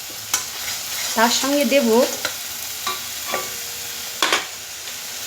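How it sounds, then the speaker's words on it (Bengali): Spices with chili paste and turmeric stirred as they fry in a pan, with a steady sizzle and intermittent scraping strokes, plus a brief stretch of speech partway through. "এবার মশলাটা সুন্দরভাবে নাড়তে থাকবে যাতে এর কাঁচা গন্ধটা চলে যায়।"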